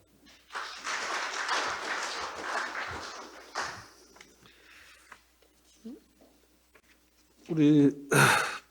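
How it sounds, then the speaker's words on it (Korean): Applause from an audience at a Korean labor and social policy forum's opening ceremony, welcoming a speaker. About three seconds of moderate clapping are followed by footsteps, small thumps and brief voices. "조 위원장님 큰 박수로 맞이해 주시면 감사하겠습니다."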